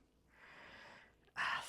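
A soft, breathy exhale drawn out for about a second during a weight-training set, followed by a sharper, louder burst of breath close to the microphone.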